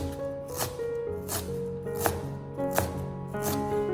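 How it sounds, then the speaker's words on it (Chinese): Knife chopping fresh ginger root into small dice on a board, a steady run of about six sharp, evenly spaced cuts over a faint continuous music-like background, with no talk. "先将它切成薄薄的厚片，再切成粗一点的细丝。 最后切成小丁。"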